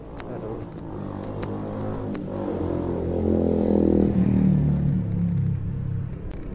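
A ZX25R motorcycle engine at a red-light intersection: a steady, close, low rumble that swells into a rev midway and then eases back, with faint voices in the background.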